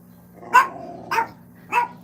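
A small, elderly dog gives three sharp barks, evenly spaced and fairly close, over a steady low background hum.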